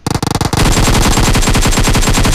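Loud, close automatic gunfire from the video game PUBG opens with a few quick bursts, then runs into one long, continuous rattle of rapid fire.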